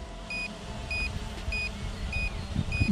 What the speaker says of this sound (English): That beeping is annoying, but at least it lets you know that something is happening.